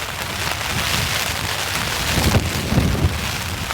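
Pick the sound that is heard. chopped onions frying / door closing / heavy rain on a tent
heavy rain on a tent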